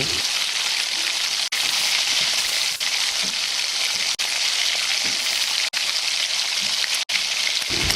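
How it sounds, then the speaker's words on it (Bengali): Masala spices frying in a pan over a low gas flame, with chicken just added, give a steady, close hiss of sizzling that runs on with a few brief dropouts and no voices. "গ্যাসের ফ্লেমটা কমিয়ে নিয়ে মশলা কষিয়ে নেব।"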